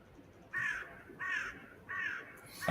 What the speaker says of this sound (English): I heard the bird then.